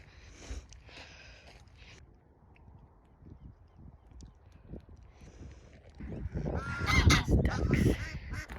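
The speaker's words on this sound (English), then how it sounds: "Ducks." Ducks honk and quack outdoors in a Spanish countryside landscape, faint scattered calls at first, then a louder burst of several overlapping nasal squawks near the end over soft ambient rustle.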